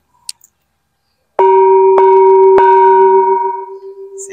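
A bell at a Thai temple, Wat Ban Don Chi in Ubon Ratchathani, is struck three times in quick succession, each strike ringing out loud and close with a long, bright, sustained hum that slowly fades.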